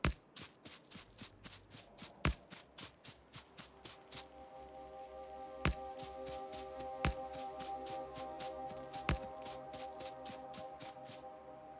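Character footsteps in the video game Factorio patter in a fast, steady rhythm of light, close taps over a low, constant background hum, with no talking.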